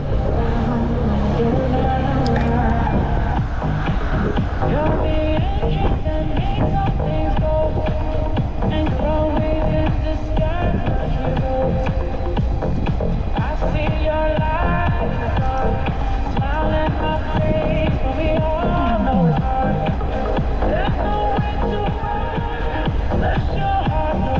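Wind roars and buffets constantly along a September road route through Crimea between Novy Svet, Sudak and Koktebel, a loud, unbroken rumble that fills the whole stretch.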